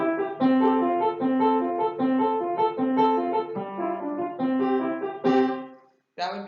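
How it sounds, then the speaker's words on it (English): Piano playing an Alberti bass accompaniment in Classical-era style, with a steady stream of broken-chord arpeggio notes under a melody, clear and close, ending with a brief pause and a new chord. "So an example of an Alberti bass might sound something like this."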